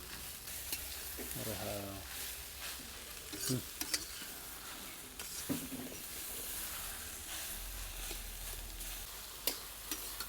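Vegetable with coarse masala being stirred in a hot pan, a soft sizzle with intermittent spoon scrapes and clinks against the pan, close, with faint voices briefly in the background.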